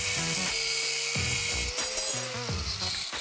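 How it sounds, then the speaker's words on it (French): A power tool cuts and sands steel bars in a home workshop, grinding loudly and continuously with repeated surges and dips in pitch as it bites into the metal. "j'ai coupé et poncé les barres d'acier"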